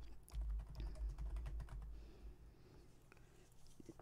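Quiet, close typing on a computer keyboard while a query is entered in Microsoft Access, with rapid soft key clicks that fade toward occasional single taps.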